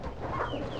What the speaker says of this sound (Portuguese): Olha, olha as galinhas.